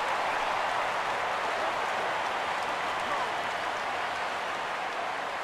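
A crowd cheers at a baseball game in MLB 14: The Show, a steady, fairly loud roar of voices lasting throughout without clear breaks.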